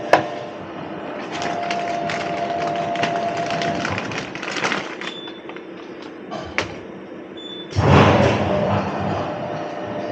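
Steady broadband clatter from a live car workshop during work on a 2011 Mini: continuous mechanical hum with scattered knocks and thuds, a brief high whine, and a louder burst of banging near the end, with no one speaking.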